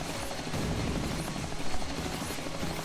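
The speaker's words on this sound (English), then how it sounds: "oh, here comes the attack helicopter." Attack helicopter approaching in the video game Mighty No. 9, a steady dense mechanical whirring drone with chattering rattles, moderately loud and continuous without talk.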